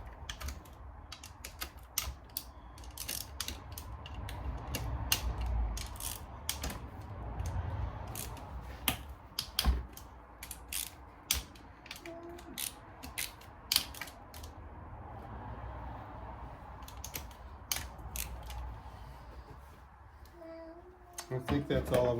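Bolts being loosened with a ratchet during a teardown, a long run of quick clicking and ticking bursts with pauses, close and fairly quiet, while a person talks at times.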